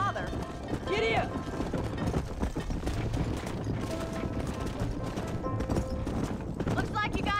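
Horse hooves clip-clop steadily in Red Dead Redemption, a quick repeating trot under game dialogue and music, with a brief whinny-like cry near the start.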